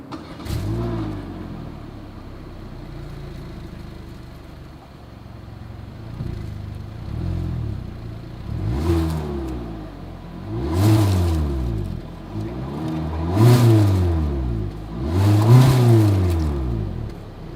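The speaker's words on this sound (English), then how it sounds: "As always, here is that exhaust clip." A 2021 Hyundai Elantra's engine revs repeatedly through its exhaust, building from a steady idle into several loud, rising vroom bursts spaced a couple of seconds apart.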